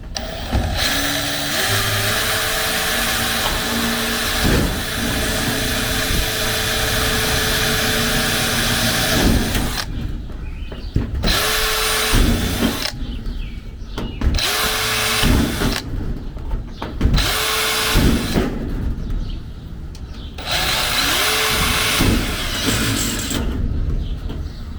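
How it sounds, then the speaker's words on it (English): A power drill boring holes through a metal shed wall to mount a hasp, with several short bursts of whining drilling separated by pauses, loud and close over a steady background hum. "to drill my holes"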